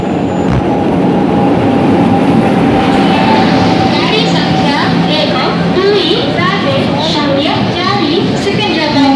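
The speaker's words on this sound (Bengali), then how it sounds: "আমাদের ট্রেন দিয়ে দিয়েছে" A Secunderabad–Howrah Falaknuma Superfast Express pulls into a station platform, its steady rumble and metallic screeching continuous throughout, with people and children talking over it.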